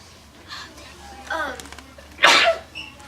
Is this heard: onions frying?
no